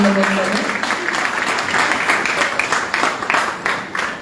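An audience claps steadily at a launch ceremony for a Thirupugazh hymn-singing event, a loud, dense applause that continues throughout with a voice faintly over it.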